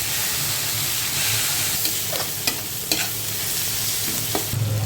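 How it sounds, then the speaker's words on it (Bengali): Chopped onions with salt frying in a pan: a continuous bubbling sizzle with occasional scraping stirs and clinks of a spatula, close and steady, no voices. "এটা হালকা ভাজা ভাজা হয়ে এসেছে।"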